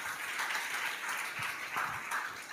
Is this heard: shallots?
no